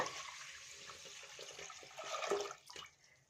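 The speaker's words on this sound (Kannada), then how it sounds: "ಇಲ್ಲಿ ನಾನು 5 ಕಪ್ ಆಗುವಷ್ಟು, ಯಾವ ಕಪ್ ತಗೊಂಡಿದ್ದೀನೋ ಆ ಕಪ್ಪಲ್ಲಿ 5 ಕಪ್ ಆಗುವಷ್ಟು ನೀರನ್ನ ಸೇರಿಸ್ಕೊತಾ ಇದ್ದೀನಿ" Water pouring into a pot for pongal, a soft continuous splashing stream that swells near the end and then tapers off, fairly faint and close.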